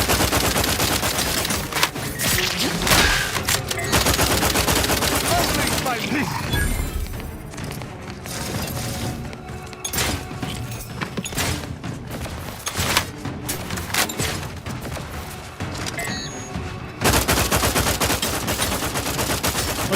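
Heat-seeking bullet gun in the video game The Outer Worlds 2, firing in long rapid bursts with thuds and booms amid game noise, while a player talks over the shooting.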